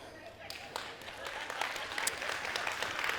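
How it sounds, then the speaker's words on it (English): Light, scattered applause rises from an audience during a talk, faint and somewhat distant, with voices mixed in among the claps. "I knew Bud was going to clap for that."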